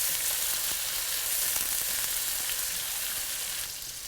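Peppers and onions fry in a hot pan and get stirred, a dense, steady sizzling hiss with faint ticks from the utensil, fading slightly at the end.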